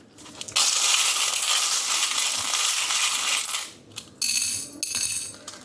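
Many small metal tarot charms pour out in a dense, bright jangling cascade lasting several seconds, then two shorter clattering bursts follow, close and loud with no talking.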